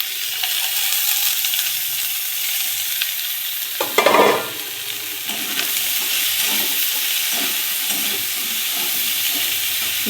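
Spring onions frying in a pan: a steady hiss and sizzle fills the clip, with a sharp louder crackle near the middle and faint stirring scrapes, and no talk.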